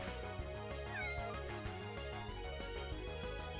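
A voice imitates a cat's meow in the Pokemon Uranium video game: a short rising-falling call heard once, faintly, over looping game music.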